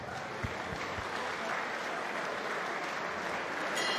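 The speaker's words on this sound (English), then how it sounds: "let's get a round of applause for Borna Grcic" A crowd at a boxing event applauds boxer Borna Grcic, a dense, steady round of clapping that carries on evenly for several seconds.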